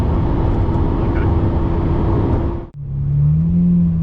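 A Lamborghini LP640 accelerating hard in first gear, a loud, close, steady engine roar that cuts off abruptly for a gear change and then resumes with a rising tone.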